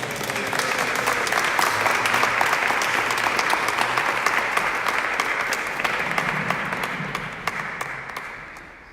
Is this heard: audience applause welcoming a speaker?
yes